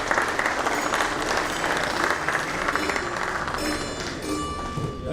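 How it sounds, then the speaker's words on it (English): An audience at a Builders Association of India gathering in Pune claps continuously, a dense, even roar of hands that holds steady throughout. "Just keep clapping"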